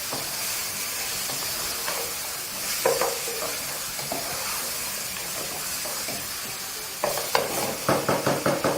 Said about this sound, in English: we're just going to keep browning the meat